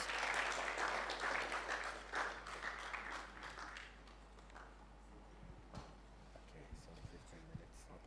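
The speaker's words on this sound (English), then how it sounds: "Shall we clap for him while he comes?" Audience applause greets a speaker walking up to the stage at a university orientation for fresh students. It is dense at first, then thins to scattered claps and small knocks over a steady low hum.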